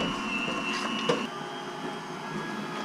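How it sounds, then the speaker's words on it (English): A meat grinder works through long, skinny strips of pork fat for lard, giving a steady mechanical hum and whine with a faint squeak, moderately quiet and continuous. "if you cut your meat, or fat in this case, into long skinny strips, it feeds through the meat grinder a lot better"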